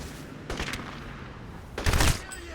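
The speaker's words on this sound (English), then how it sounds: "That sound when you get a headshot, so satisfying" A headshot impact effect from the Crysis shooter game, heard as two short, punchy bursts of gunfire-like crack and boom, separated by over a second of quieter background ambience.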